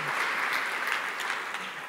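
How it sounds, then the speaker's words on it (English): A conference audience applauds at a tech talk, a dense even wash of clapping that holds steady across the moment. "Yeah, we'll give a clap."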